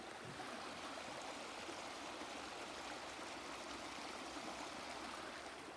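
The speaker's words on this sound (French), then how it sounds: "Oh, un beau petit ruisseau." A small stream flows steadily nearby, a faint, even rush and trickle of water with no other sounds.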